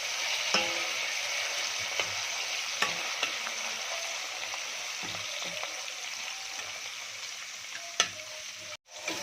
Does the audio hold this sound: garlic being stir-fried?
yes